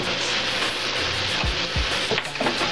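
Oil sizzles and crackles steadily in a pan during pad thai cooking, a dense hiss with a couple of low clunks near the end, close by with no talking.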